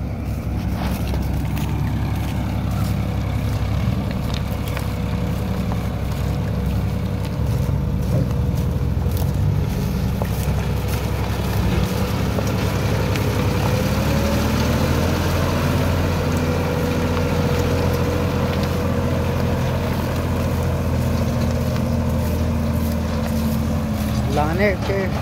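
A stuck tractor with its wheel sunk deep drones steadily and labours under load, its pitch shifting as it strains, with a person talking over it.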